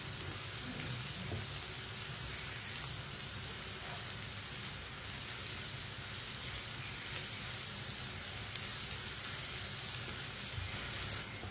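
Tinda and onions fry in a pan with a dense, steady sizzle that holds at an even level throughout, with faint scrapes as a spoon stirs them and no voices.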